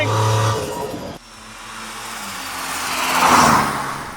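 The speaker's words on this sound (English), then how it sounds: "You can feel the turbo help the motor puff out a large amount of power" A Mercedes fitted with a turbocharged Toyota Supra engine accelerates hard, the engine note dropping at a gear change, then building into a rising, roaring pull that swells loud and fades slightly at the end.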